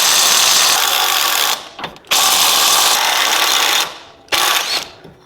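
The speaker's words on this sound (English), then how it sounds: "just get your impact wrench and take these 17 millimeters out" An impact wrench backs 17 mm bolts out of a skid plate on a 2021 Toyota, with three long loud whirring, hammering bursts separated by brief pauses and metallic rattles.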